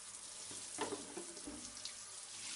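Water runs from a shower, a steady hiss with a few splashy bursts as something moves through the stream, fairly quiet and with no one speaking.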